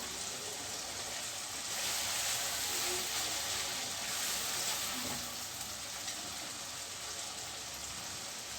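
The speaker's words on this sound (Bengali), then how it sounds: "সবগুলো মশলা আমার দেওয়া হয়ে গিয়েছে এখন আমি মশলাগুলোকে একটু ভেজে নিব" Ground spice paste fries in a pan for Rupchanda fish curry, a soft continuous sizzle with light stirring scrapes and a brief swell in the middle, no talking.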